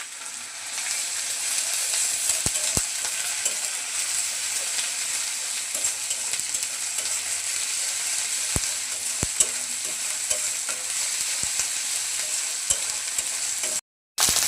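Onion, ginger and cumin paste stir-fried in hot oil for a rohu fish curry, a steady close sizzle with scattered spatula scrapes and taps running throughout, broken by a brief gap near the end.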